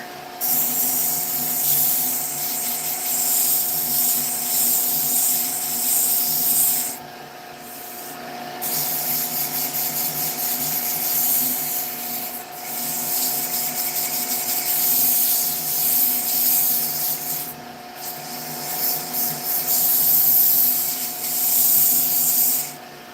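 Sandpaper rubbing against turned wood spinning on a lathe makes a steady, loud hiss with an even motor hum beneath, broken by a few short dips where the paper lifts away.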